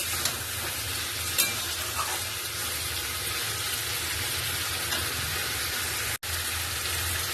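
Spice masala cooking in oil for a tengra fish curry with cauliflower, a dense continuous hiss of frying that stays even throughout, with one brief drop in sound near the end and no voices.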